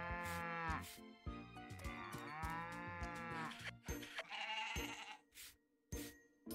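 Farm animals in the video game Story of Seasons: Pioneers of Olive Town give a run of loud, wavering bleats and moo-like calls, clear and close, ending with a few short clicks.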